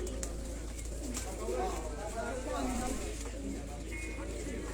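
Superman-breed pigeons at a loft near Head Marala, Sialkot, coo in a low, steady murmur beneath nearby voices and a constant low hum.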